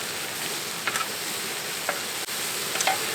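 Vegetables sizzle in garlic butter on a TemboTusk Skottle griddle, a steady soft crackle with a few light utensil taps and clicks scattered throughout.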